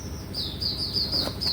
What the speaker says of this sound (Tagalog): Yung ating ibon ay maiingay talaga.